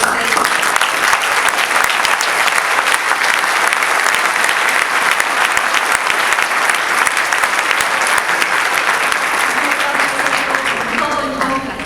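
A large lecture audience in Puerto Vallarta breaks into long, loud, dense applause for independent political candidates, an unbroken roar of clapping that holds steady for over ten seconds before easing off.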